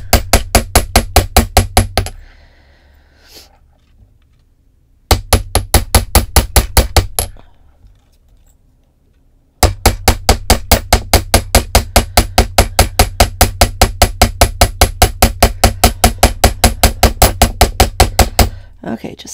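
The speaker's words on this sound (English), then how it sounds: "go ahead and hammer it out" Rapid, steady hammer strikes flattening metal wire for earrings, loud and close, coming in three long bursts separated by short pauses.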